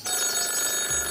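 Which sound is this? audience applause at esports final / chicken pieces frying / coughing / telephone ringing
telephone ringing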